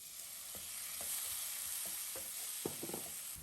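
Chopped tomato added to onion and garlic sautéing in a pan, a steady bright sizzle with several sharp clinks and scrapes of a spoon stirring, close and without talk.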